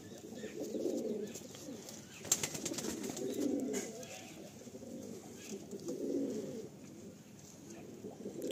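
Madrasi pigeons coo in soft, low, rolling phrases that repeat every couple of seconds, close by and fairly quiet, with a faint voice and a few light clicks in the background.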